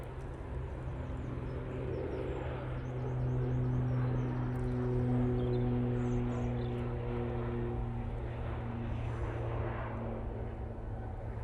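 A Ryanair airliner bound for Milan taxis at Manchester Airport, a faint, steady engine hum with sustained droning tones that swells slightly in the middle, heard from a distance.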